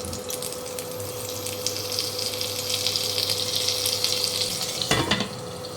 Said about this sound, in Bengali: এই বেগুনগুলো ভেজে নিই